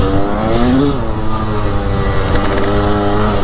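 A Gas Gas 300 two-stroke motorcycle pulls hard under acceleration, its loud, raspy engine note climbing in pitch and holding steady close by, without pause for the whole few seconds.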